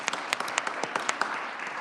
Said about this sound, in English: Time for the applause.